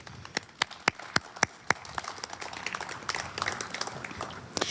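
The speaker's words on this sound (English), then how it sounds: "Please give them a round of applause" Audience applause for a development team at a civic celebration, starting with a few sharp separate claps that swell into a fuller patter of many hands clapping.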